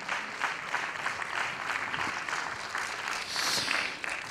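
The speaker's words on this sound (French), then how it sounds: "Mais on peut l'applaudir quand même." Audience applause at a commemoration event for the 1918 general strike held in a theatre hall, steady sustained clapping from a moderate crowd, somewhat distant and even.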